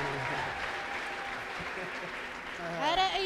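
Church congregation applauding steadily through a worship service, a dense continuous patter of many hands, with a voice rising over it near the end.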